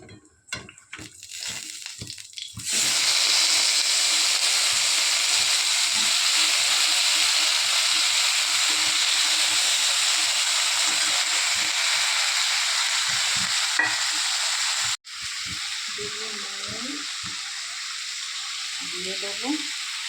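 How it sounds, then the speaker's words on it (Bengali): Cut vegetables frying in oil with five-spice seeds in a wok (kadai), a loud dense hissing sizzle that surges in after a few scraping stirs and runs steadily, dropping briefly near the end with a faint voice. "সবজিগুলো একটু ভাজা ভাজা হয়ে গেছে"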